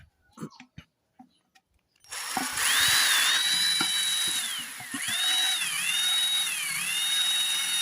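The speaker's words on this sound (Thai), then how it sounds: "เสร็จแล้วเราก็ทำการเจาะครับ" A power drill starts after a few soft knocks and whines steadily while drilling a hole in a plastic bottle, pitch dipping as it bites in, then rising again several times.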